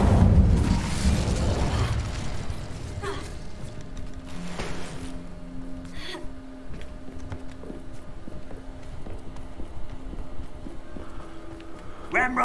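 A fiery burst from an Incendio spell cast in the Hogwarts Legacy video game, loudest at the very start and settling into a rumbling, crackling bed with faint game sounds and some voice underneath.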